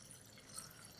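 Cold water running and splashing as rice is rinsed in a kitchen, a steady close wash of water at low level with faint dripping, no voices.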